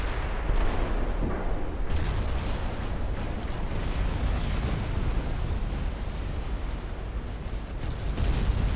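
A torpedo striking a battleship in the naval strategy game Ultimate Admiral Dreadnoughts, a loud sustained rumbling roar of explosions and heavy gunfire, dense and continuous with no pauses.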